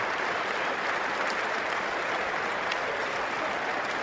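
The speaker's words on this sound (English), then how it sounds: "And the crowd here cheering and applauding Edgar Sosa," Basketball crowd at an international game in Mar del Plata applauding and cheering, a dense continuous wash of clapping at steady volume with no break.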